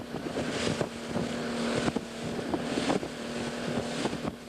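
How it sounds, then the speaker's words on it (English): A small motorboat carries passengers toward protest camps on Vieques in the early morning, its engine droning steadily with wind buffeting the microphone and periodic thumps of the hull on water. "I'm riding in a small boat, as it's practically the only means of reaching the camps"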